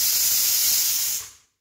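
Pressure cooker with potatoes boiling inside lets out a loud, steady hiss of escaping steam that holds for over a second, then cuts off abruptly into silence.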